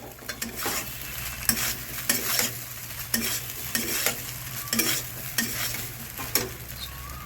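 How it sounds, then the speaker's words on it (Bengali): Cooked rice for chicken fried rice is stirred through a hot frying pan, a steady sizzle broken by repeated scraping strokes of the spoon at a near-regular rhythm, close and moderately loud with no voices. "রাইসটাকে দিয়ে আবার নাড়িয়ে নিতে হবে"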